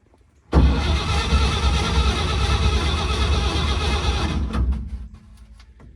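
A 1950 Chevrolet 4400 dump truck with a carbureted engine cranks and catches, roaring loudly and close for about four seconds before cutting off abruptly, leaving quiet background.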